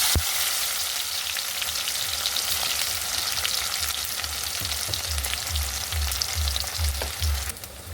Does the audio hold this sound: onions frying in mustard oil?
yes